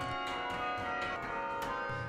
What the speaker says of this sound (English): the tolling chimes in the McGraw Clock Tower have provided a reassuring heartbeat to campus life